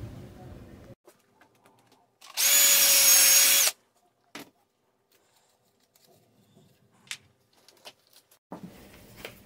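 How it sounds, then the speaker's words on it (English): A power drill bores into a piece of wood while making a hinge jig, a single loud burst of about a second and a half with quiet handling sounds and light clicks before and after. "Now I drill the first piece of wood"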